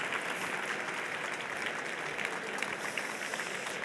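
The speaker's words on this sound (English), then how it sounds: "Another round of applause." A conference audience gives a round of applause at a business sustainability session, a steady wash of many hands clapping at moderate distance, continuous throughout without speech.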